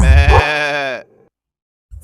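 A single drawn-out bleat, loud and close, lasting about a second, followed by near silence.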